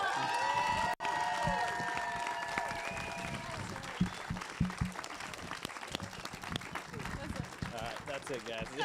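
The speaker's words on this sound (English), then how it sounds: "we are going to give the biggest round of applause to the new Mr." Wedding guests clap and cheer for the newlyweds after a toast, a crowd of hands and shouts rising together with lively voices and some music mixed in underneath, growing busier toward the end.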